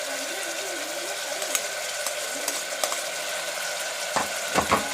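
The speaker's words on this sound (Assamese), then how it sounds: "এতিয়া আমি ইয়াতে পিঁয়াজখিনি দি দিম" Onions tossed onto mutton frying in oil inside a pressure cooker, a steady soft sizzle with occasional stirring scrapes and clinks near the end.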